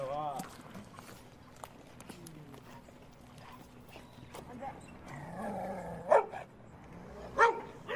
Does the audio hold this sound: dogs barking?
yes